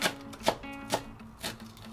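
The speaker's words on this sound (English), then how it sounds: "First chop green onion like this." A knife chops green onion on a cutting board for a cold tofu dish, three distinct, evenly spaced close chops with a soft background hum and no talking.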